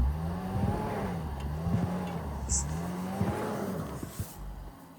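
A stuck Land Rover Discovery 5 revs as its wheels spin without grip, the engine droning and swelling in repeated rising and falling surges, close and steady throughout.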